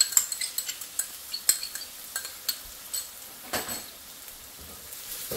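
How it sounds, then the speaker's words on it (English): Shallots being stirred in a pan for fried rice noodles, a string of sharp metallic utensil clacks and scrapes over a light hiss of frying, the strokes thinning out toward the end. "Give it a quick stir."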